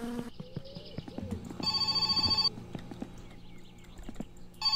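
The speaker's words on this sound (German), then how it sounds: "klingelt das Telefon." Telephone ringing in the My Summer Car game, a loud electronic bell burst in the middle of the clip amid short game clicks and background tones, with no voices.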